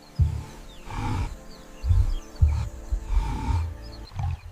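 A lion roars on open grassland plains, loud and close, in a series of deep, grunting bursts with short pauses between them, and no other sounds around.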